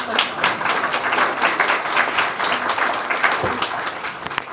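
Audience applause and cheering at a book launch, steady sustained clapping from a large crowd, loud and continuous with no pauses.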